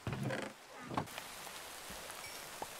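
Soft, steady rainfall in Minecraft patters quietly in the background, with a few brief louder bursts near the start.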